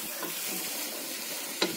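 Large-cut onions fry in a pan with a steady, dense sizzle, close and continuous, with a couple of brief stirring clicks near the end.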